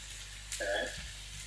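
Chicken browning in a frying pan while cooking Moroccan chicken: a steady close sizzle runs throughout, with a brief stirring or clatter near the middle and no talk.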